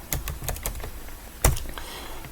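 Keys clatter on a computer keyboard while someone enters names into a spreadsheet, a quick run of close, crisp clicks followed by a pause, then one harder stroke and a few lighter taps.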